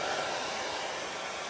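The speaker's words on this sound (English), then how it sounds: "I'm gonna take my hair dryer again" Hair dryer blowing steadily to dry chalk paste on a craft transfer project, a close, constant whooshing roar with no speech over it.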